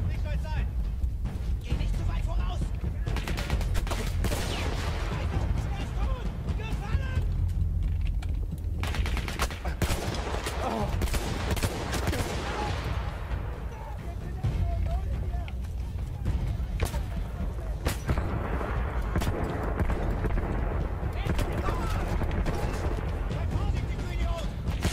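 A powerful gun fires in the Battlefield 1 campaign, with steady gunfire and battle noise throughout, dense and fairly loud, and someone talking over it in places.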